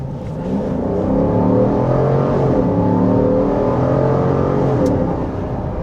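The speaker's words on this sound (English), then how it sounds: "I love the sound of a Hemi." Deep rumbling Hemi V8 of a 2025 Dodge Durango R/T accelerating on a gravel road, heard from inside the cabin as a loud, sustained engine note with rising harmonics and no talking.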